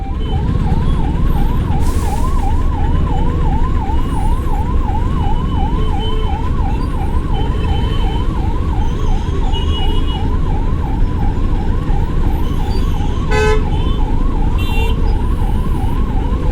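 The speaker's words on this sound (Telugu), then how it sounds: "అరే అంబులెన్స్కి దారి రా" An ambulance siren wails in a steady rising and falling cycle in a heavy traffic jam just past a new bridge, loud and close over the road noise, with brief horn blasts.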